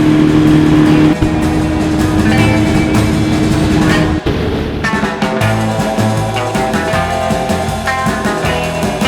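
A sailboat's heavy, fast engine runs loud and close throughout, a steady droning rumble with shifting tones as it revs, on a trip from the Faroe Islands toward Shetland.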